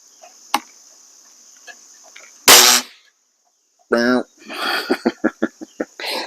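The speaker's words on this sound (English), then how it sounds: "It's got quite the buzz, quite the spring twang." A BSA Stutzen RB2 spring air rifle fires with one sharp, loud crack, followed by a buzzing spring twang and a run of quick mechanical clicks in a quiet room.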